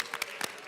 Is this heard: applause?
yes